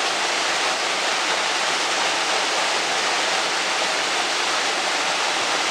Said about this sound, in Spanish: Esta cascada es muy brutal, como cae el agua